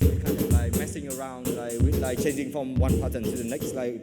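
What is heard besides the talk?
No distinct noise like a dog, phone or traffic.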